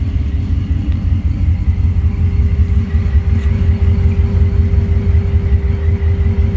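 Deep, steady exhaust rumble from a 1986 Ford F150 with a supercharged Coyote V8 swap, long tube headers and a Magnaflow muffler, idling loud and close, with a faint whine riding on top.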